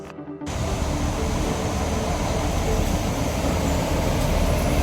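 A train on the line to Matheran rumbles past as a steady, broad roar that begins abruptly and holds at a constant level throughout, heard from nearby with no voices.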